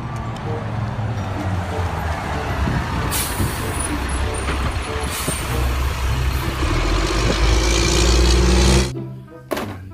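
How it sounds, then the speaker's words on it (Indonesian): Heavy truck engine rumbles steadily up close, with sharp hissing air-brake bursts cutting in, before the noise drops off abruptly near the end. "Wow, yang ini ada mobil molen."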